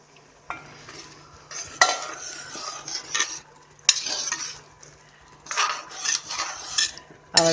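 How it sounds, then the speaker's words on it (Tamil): Cooked lentils being added to a pot of traditional Tamil Nadu eggplant and raw mango sambar and stirred, with a spoon scraping and clinking against the metal pot in repeated bursts over a low steady hum. "இந்த பருப்பு வச்சுருந்தேங்க, அதை இதில் சேர்க்குறேன்."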